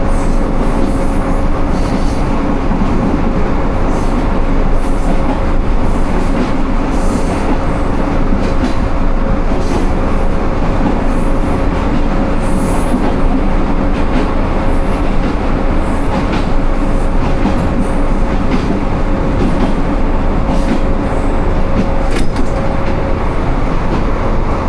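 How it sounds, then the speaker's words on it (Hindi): The Jaffar Express passenger train runs on rails near Taxila Junction on a rainy day, a loud continuous rumble of wagons with rhythmic wheel clatter and a faint squealing tone throughout. "टेक्सला जंक्शन अप्रोच कर रही है 10:05 पे 40 टाउन जाफ़र एक्सप्रेस।"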